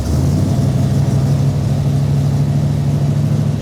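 A Shelby Cobra's engine runs at a steady, loud idle, a deep continuous rumble close up with no talk.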